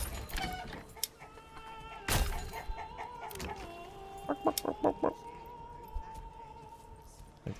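Chickens cluck in a short burst of rapid clucks amid faint background game sounds in the medieval city-building game Manor Lords, quiet and alone with no voices.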